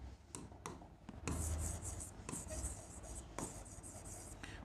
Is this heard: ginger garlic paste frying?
no